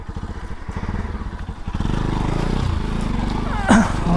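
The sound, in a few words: motorcycle off-roading in heavy rain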